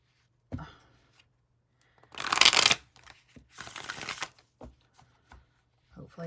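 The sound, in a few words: shuffling a deck of tarot cards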